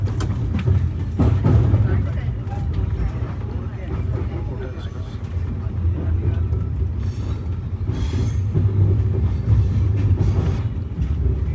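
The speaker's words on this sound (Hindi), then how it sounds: "अब ट्रेन बढ़ चलती है अपनी मंजिल निजामुद्दीन की तरफ।" Central Railway Rajdhani Express, hauled by two engines, runs steadily on the rails toward Nizamuddin, a continuous loud rumble of wheels and carriages with faint rhythmic clatter throughout.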